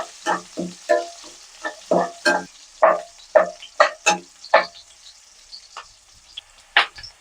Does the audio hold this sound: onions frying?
yes